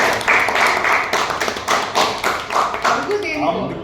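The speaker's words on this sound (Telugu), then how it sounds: "ముందు కొట్టండి క్లాప్స్" A group of people clap together in an interview studio, with a dense burst of hand claps lasting several seconds before it thins out, mixed with some background voices.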